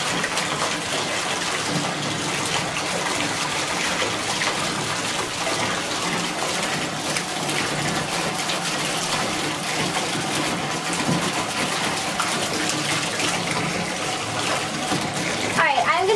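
Water from a running tap pours steadily into a bathtub over a Lush Comforter bubble bar, a continuous broadband gush that holds the same level throughout, close and alone.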